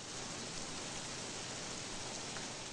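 Steady contaminated rain falling outdoors in the film The Hole, a dense even hiss of rainfall running unbroken and at constant level, with no voices over it.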